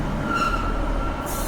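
Interior of a moving train heading to Newcastle, a steady low rumble of wheels and carriage with a faint high whine, continuous and fairly loud throughout.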